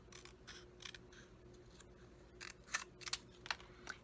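Scissors trim a paper strip into a banner for a handmade thank-you card, making a series of quiet, close snips in irregular bursts, with several crisper cuts near the end.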